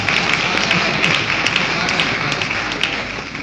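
Hands clapping as a live audience applauds at a Hindi poetry recital, a dense, steady wash of claps that stays loud and even throughout, with no speech over it.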